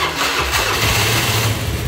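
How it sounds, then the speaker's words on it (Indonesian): A Vespa scooter engine cranks and catches, then settles into a steady mid-pitched idle, loud and close, with no voices. "Nah saya pengen dengerin ke kalian seperti apa suara motornya"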